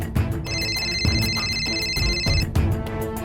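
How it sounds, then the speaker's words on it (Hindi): A mobile phone rings with a steady electronic ringtone pattern in an indoor household scene, the tone sustained for about two seconds over background clatter and low room noise, with no talking during the ring. "हमारा फोन, घंटी तो बज रही है, कहाँ है?"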